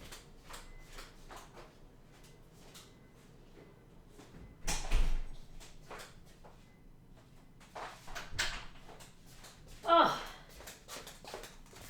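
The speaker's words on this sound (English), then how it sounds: "I'm going to have to shut that door" A door shuts with a dull thud partway through, among quiet room noise, talking and a few bumps, followed by a brief electronic beep.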